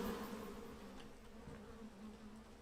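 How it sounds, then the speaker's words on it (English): Bees in the video game PEAK give off a steady, close insect drone that hums without a break for the whole stretch. "Can I help you, bees? Why are they terrorizing me?"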